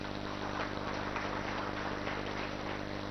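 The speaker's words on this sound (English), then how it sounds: "Give them a big round of applause" Applause from an audience at a corporate office opening ceremony, acknowledging media guests, comes as a steady, even wash of clapping throughout, moderately distant and fairly soft, with a continuous hum underneath.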